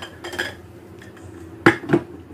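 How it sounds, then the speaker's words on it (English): Eggs go into cake batter in a bowl, heard as a few close, sharp clinks and taps of shell against the bowl rim amid light clatter, with no talking. "I'm gonna add three eggs here."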